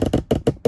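Tripod handling noise: a quick run of five dull, clunky knocks and rattles close to the microphone, loud and uneven.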